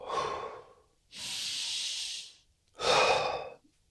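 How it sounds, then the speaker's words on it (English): Three slow breaths alone in a quiet room: a soft exhale, then a long hissing inhale through the nose, then a louder, rougher exhale through the mouth, close to the microphone. "Exhale through the mouth."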